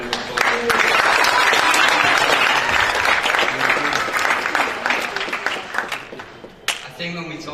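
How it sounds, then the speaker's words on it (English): An audience at a graduation ceremony breaks into loud, dense applause that holds steady, then thins out to scattered claps before a voice resumes near the end. "So thank you to all those people and a round of applause."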